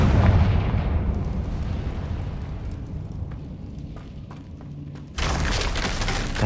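A Confringo blasting curse detonates in the Hogwarts Legacy video game: a heavy, rumbling boom that slowly fades, then a sudden loud broadband blast near the end, with no voices.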